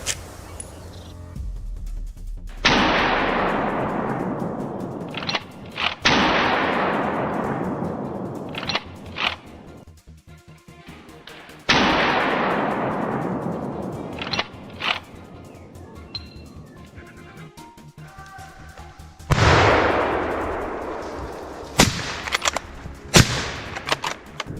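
Rifle shots ring out while hunting wild boar in a forest, four loud sharp reports spaced several seconds apart, each trailing off in a long echoing decay, with smaller clicks and knocks between them.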